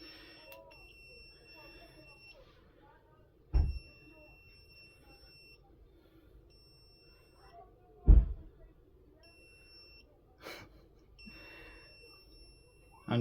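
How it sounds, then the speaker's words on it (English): A beep tester checks light switch wires, giving several short, high, thin beeps in intermittent bursts, broken by a few loud handling thumps against a quiet room. "we can use a beep tester that will tell us which one"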